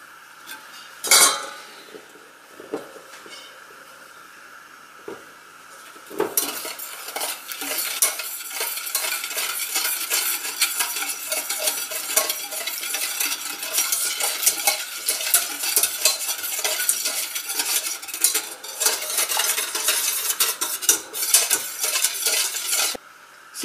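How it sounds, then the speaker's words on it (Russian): A spoon stirs an ice cream mixture in a pot, the scraping and clinking steady and close for most of the stretch after a few sparse knocks at the start. "Сейчас мы это все перемешаем и поставим на плиту"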